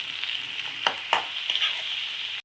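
Paste of coconut, green chilli and onion fries in a pan, giving a steady close hiss with a few sharp sizzling crackles and stirring scrapes, and no voices.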